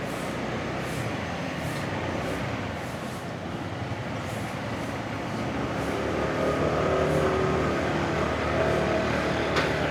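Traffic on a steep road in Sagada, with e-bikes and tricycles passing: a continuous motor rumble and whirr that grows slightly louder and closer toward the end, without talk.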